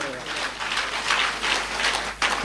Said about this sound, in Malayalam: കൈയടിച്ച് നന്ദി പറയാം.